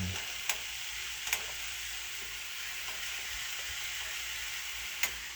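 Tomatoes, green peppers and onions fry in a pan with a continuous, even sizzle and a few light clicks of a utensil.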